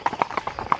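Horse hooves clip-clopping during a group trail ride along a forest edge in Catalonia; quick, regular, close hoofbeats fill the brief moment.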